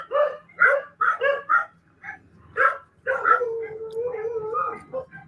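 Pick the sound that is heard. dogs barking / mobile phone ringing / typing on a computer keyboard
dogs barking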